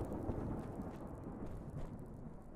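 A thunderstorm in the video game Giants Fall: a continuous deep rumble of thunder mixed with steady heavy rain, dense and unbroken, with no voices.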